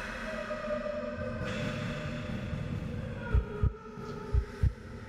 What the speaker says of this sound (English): There's a heartbeat again.